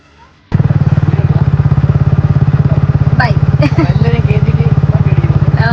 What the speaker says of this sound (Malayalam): ഭയങ്കര പവർഫുൾ ആണ് ബൈക്ക് അടിപൊളി ബൈക്കാണ് ബനലി സൂപ്പർ ബൈക്ക്